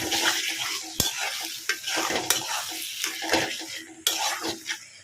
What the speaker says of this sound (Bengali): এখন এই পেঁপেটা আমি এখানে দিয়ে দেব। তো এখন পেঁপেটা দিয়ে ভালো মতো এখন কষাতে হবে